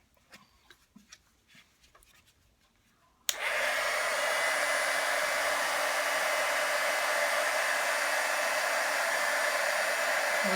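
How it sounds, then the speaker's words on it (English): Some quiet rustling gives way to a heat gun switching on abruptly and blowing in a loud, steady whoosh while it melts embossing powder on a handmade thank-you card. "we're ready to use the heat gun again."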